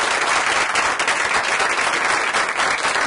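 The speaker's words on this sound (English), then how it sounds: "Can we please give the chaplains a round of applause?" An audience applauds the chaplains at an evening faith event, a dense, loud wash of many hands clapping steadily for the full few seconds.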